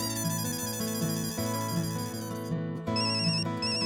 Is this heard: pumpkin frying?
no